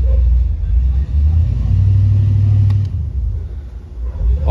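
Car backing out of a nearby driveway, a low engine rumble with a brief rise in revs, fairly loud and steady with no voices.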